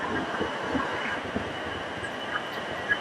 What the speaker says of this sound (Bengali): এই আমার পিছনে দাঁড়িয়ে আছে ট্রেন নাম্বার 12663 হাওড়া থেকে তিরুচিরাপল্লী সুপারফাস্ট এক্সপ্রেস।